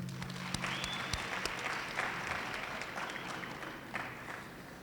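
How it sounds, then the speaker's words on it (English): An audience at a government awards occasion applauds the awardees, giving a sustained wash of clapping from a crowd at moderate distance, a few sharper claps standing out, steady for several seconds. "may I request you to join me in giving a big applause to the awardees"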